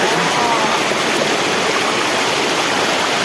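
A river waterfall (curug) roars loud and steady at close range, a dense unbroken rush of falling water that fills the scene from start to finish.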